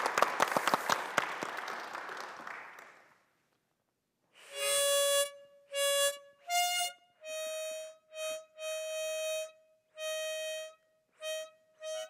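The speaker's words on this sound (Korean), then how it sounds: "자, 박수로 맞아주세요." Brief, fairly close applause in a church welcomes a harmonica player. The clapping fades out after about three seconds. Sustained harmonica notes follow in separate phrases with short pauses between them.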